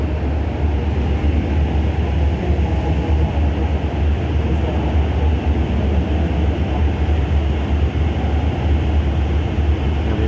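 Express train 85 pulling out of Bangkok's Krung Thep Aphiwat Central Terminal, heard as a steady, loud rumble of rolling stock and engine drone holding constant with no voices.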